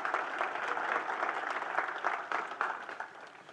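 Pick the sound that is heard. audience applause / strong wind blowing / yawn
audience applause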